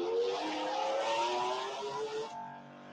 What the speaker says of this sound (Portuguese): Vem balançando, você mete o pé no freio, o carro sai caranguejando tudo ali na freada